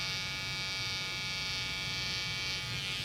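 A Wahl 5-Star Detailer trimmer buzzes steadily and close, a constant electric hum with bright overtones, used for detail work on an eyebrow during a barber's haircut.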